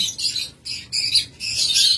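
Several lovebirds from a breeding pair for sale squawk and chirp in dense, shrill bursts, with brief gaps between calls, close and loud with no talk.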